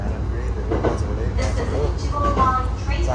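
A train rumbles past with a low, heavy roll and rattling, fairly close and steady for a few seconds, while people talk over it.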